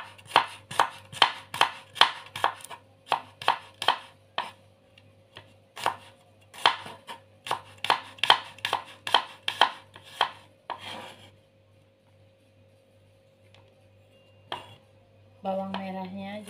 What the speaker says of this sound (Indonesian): Kita potong bawang putihnya. Iris tipis-tipis atau menurut selera.